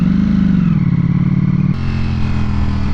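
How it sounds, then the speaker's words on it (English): A Ducati Panigale V4 SP2's stock exhaust rumbles steadily up close with a deep, bassy idle-like tone, the pitch shifting slightly partway through. "this thing sounds good for like a stock exhaust"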